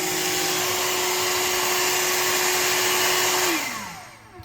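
A Shark HydroVac vacuum motor whirs at a steady high pitch, loud and close, then winds down as it switches off near the end.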